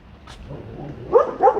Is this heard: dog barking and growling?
yes